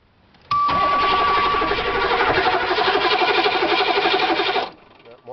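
Diesel engine cranking on a cold start after a long winter, a loud continuous churning grind lasting about four seconds that cuts off abruptly, with a brief high tone at the start.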